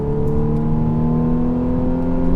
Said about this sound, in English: I'll give you guys a quick demonstration of how this car accelerates.